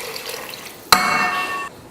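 About a bowl of water is poured into a pressure cooker for mutton biryani, a sudden loud splash followed by a close, steady gushing pour that stops abruptly under a second later.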